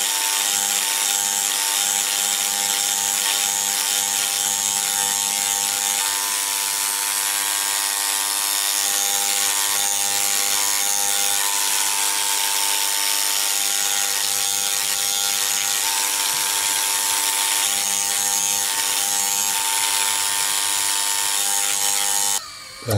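A cut burr works the claw setting of a diamond solitaire ring, a steady high-pitched rotary whine with a faint rubbing grind, close and continuous for the whole stretch with no talk.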